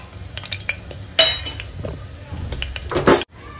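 Whole spices drop into hot ghee in a pan, light clinks of a spoon against metal with a faint sizzle underneath, close-up and without talk.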